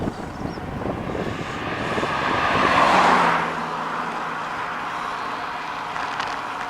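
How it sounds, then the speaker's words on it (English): A car passes on a quiet country lane in Mid Wales, swelling from a distant hum to a loud close rush and fading away, heard over wind noise while cycling. "I'm surprised I'm even meeting cars, if I'm honest"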